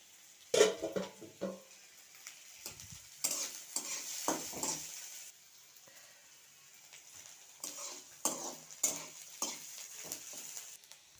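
Onion and garlic fry quietly in oil under repeated scraping and stirring of a spatula against a pan, in uneven bursts with pauses.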